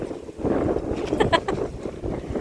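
Cold wind gusting across a mountaintop at Mt. Parawagan in Rizal, a steady loud rush of buffeting noise against the microphone throughout, with faint voices underneath.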